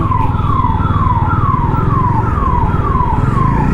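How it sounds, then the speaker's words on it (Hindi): Ambulance siren wailing in city traffic, a steady repeating falling tone cycling about twice a second, loud and near over a low engine rumble, with no talking. "पर जनरली आजकल तो लोग सभी बजाते रहते हैं एम्बुलेंस वाले सायरन"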